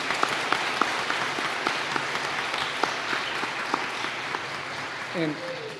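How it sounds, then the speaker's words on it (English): Applause from the audience at a graduation ceremony, a steady wash of clapping with a few sharper individual claps standing out, and a voice briefly speaking near the end. "you can give them a round of applause"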